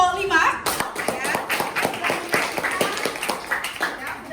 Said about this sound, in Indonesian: tepuk tangan dulu untuk kelompok 5 ya